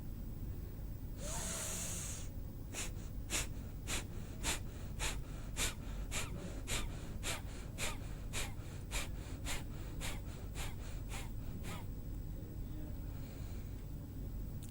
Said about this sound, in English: take deep inhalation and we have to release our exhalation by making small intervals of exhalation